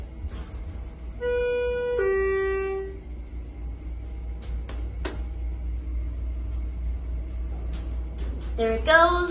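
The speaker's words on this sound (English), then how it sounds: "Let's ring the bell." The alarm bell of a Schindler HT 330A elevator car in a sporting goods store sounds as a tonal alarm for about two seconds. It is followed by a low machine hum and a few sharp clicks.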